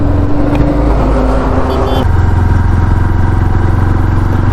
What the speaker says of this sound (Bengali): একটা সুপার বাইক গেল, তা বলে এরকম আওয়াজ করতে হবে?